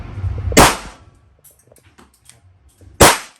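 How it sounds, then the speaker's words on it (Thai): A BLOW TR914 Auto blank gun fires two separate test shots, each a loud, sharp close bang with a brief ringing decay, about two and a half seconds apart with quiet handling noise between. "ทดสอบปืนเหมือนกันนะครับทุกคน บรรจุสิบนัดนะครับ ทีนัดก่อนนะหนึ่งสอง"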